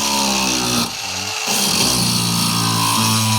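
An electric grinder runs loud and close on power from a homemade mountain hydropower plant, a harsh steady whine that dips briefly as it bogs under load, then spins back up.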